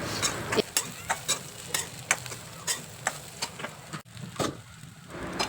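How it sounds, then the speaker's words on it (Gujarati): A spoon scrapes and stirs dry, spiced bati crumbs in a pan with regular, rhythmic strokes, a light sizzle underneath, close and clear with no talking. "બાટીનો ચૂરો નાખ્યા પછી તમે એને મિક્સ કરી લો"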